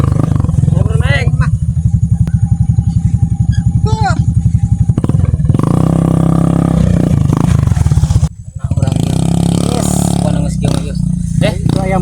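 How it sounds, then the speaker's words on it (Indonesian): A motorcycle engine putters in a steady rhythmic idle, fairly close and loud, while people talk over it in a comedy sketch. "Ada suara motor saha itu."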